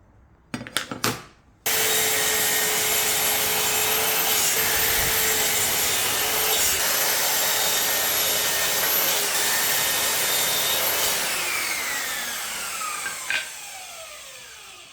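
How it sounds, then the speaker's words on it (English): After a few brief knocks, a power sander whirs steadily against the edges of wooden planks, a loud continuous grinding hiss that eases off near the end. "while we are sanding the edges of the planks that we'll end up using for the frame of the biltong box"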